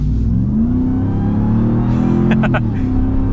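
A 2024 Ram TRX pickup truck with a Hellcat engine revs up loudly and close by, its deep engine note rising steadily in pitch, and a brief sharper burst of sound comes near the end.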